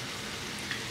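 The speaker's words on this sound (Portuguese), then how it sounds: "quando a gente coloca a carne fria na panela quente, a panela vai dando calor pra carne e vai esfriando." Meat fries in a hot pan over high heat, a steady dense sizzle with crackling throughout and one small pop near the end, close and continuous.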